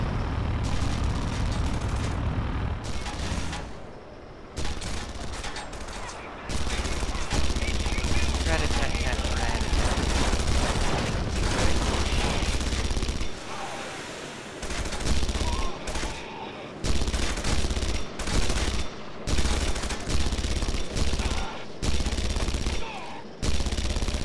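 Sustained heavy turret fire in Red Faction Guerrilla, dense rapid bursts and explosions roaring nearly continuously with a few short breaks, loud and close, with players talking over it.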